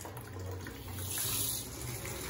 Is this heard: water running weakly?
yes